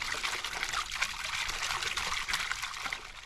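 A large backyard fountain water feature sends a steady, continuous trickle and splash of water, even and unbroken throughout, with no one speaking.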